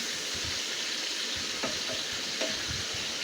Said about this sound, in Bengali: মুরগিটা বেজে নিচ্ছি আলুটাও সাথে দিয়ে একসাথে ভালো করে বেজে নিয়ে